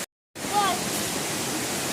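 Blue Hole Falls on Cedar Creek near Mountain Rest, South Carolina, pours as a steady, loud, broadband roar heard from the top of the falls, starting after a brief silent gap and continuing evenly.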